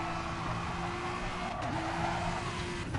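A race car brakes and corners with a touch of oversteer, its engine droning steadily while the tires squeal in a sustained, slightly wavering tone, loud and close throughout.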